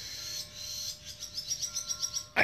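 Small birds chirping on Star Island on a quiet morning, a quick run of faint, evenly spaced high chirps over low background noise.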